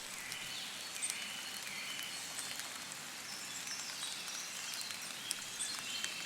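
Soft, steady rain patters quietly and continuously, faint and even with a few tiny brighter drips scattered through.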